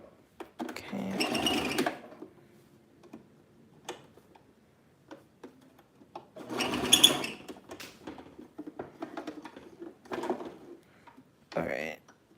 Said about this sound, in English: So we've got our first seam stitched